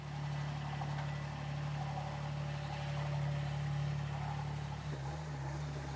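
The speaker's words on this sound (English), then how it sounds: "So this is a 1-ton micro digger, chosen for its small size." A 1-ton micro digger's small engine runs steadily at idle with a low, even hum, close by and continuous, with a slight dip in pitch near the end.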